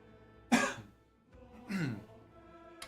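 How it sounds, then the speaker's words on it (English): Two separate harsh coughs, close and fairly loud, about a second apart, with quiet between them. "We're going to be coughing for a little bit."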